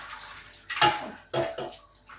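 Pots and dishes are rinsed under a running tap, with two brief bursts of splashing water and clattering cookware close by.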